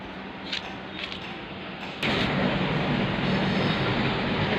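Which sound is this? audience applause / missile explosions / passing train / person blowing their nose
passing train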